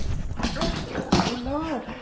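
A puppy whimpers and yips in short, high, rising cries close by, while a person speaks warmly to it throughout.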